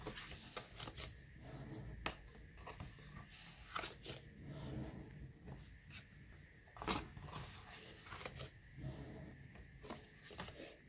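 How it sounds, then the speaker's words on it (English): Cardstock being folded along scored lines by hand, a series of soft, irregular crisp creases and rubbing rustles, close and quiet against a low background. "And then we're just going to fold along all of those lines."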